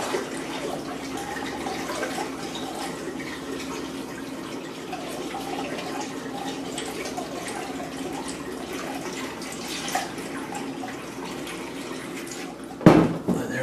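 Homebrew beer wort trickles slowly during a transfer, a steady soft liquid wash that runs continuously, ending with a brief sharp knock or clunk.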